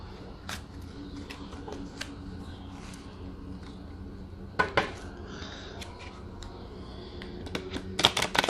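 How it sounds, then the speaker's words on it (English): Tarot cards being shuffled by hand, a steady soft papery riffling with scattered sharper clicks and taps, close and quiet, growing busier toward the end. "Let's go ahead and shuffle more."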